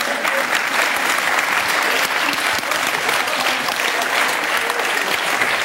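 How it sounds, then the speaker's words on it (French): Applause in a nightclub, a dense, even patter of clapping that holds steady and fairly loud throughout, with no voices over it. "Il y en a un qui applaudit, c'est un client, je crois."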